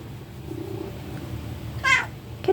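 A pet cat gives one short meow partway through, close and clear, over quiet room ambience.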